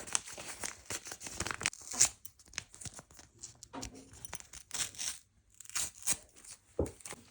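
A thin paper packet is torn and crinkled up close in quick bursts of ripping, with short pauses between pulls.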